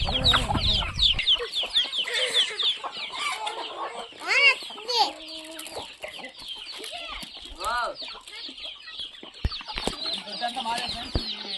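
Hens and roosters cluck and squawk continuously on a farm, with several birds calling over one another at close range, their sharp calls rising and falling in a busy chorus.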